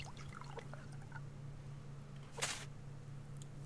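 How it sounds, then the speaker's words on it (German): Water pours and splashes briefly onto garden beds in the survival game Subsistence, a short soft burst over a steady low hum, with faint scattered drips and no talking. "gieße ich die ganzen Beete"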